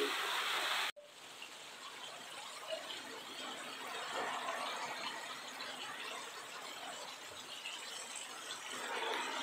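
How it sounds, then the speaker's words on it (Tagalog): Heavy rain with strong wind during a typhoon, a steady dense wash of rainfall and gusting noise that holds loud and continuous throughout, following a brief louder burst at the very start. "Ang lakas ng ulan, lakas ng hangin."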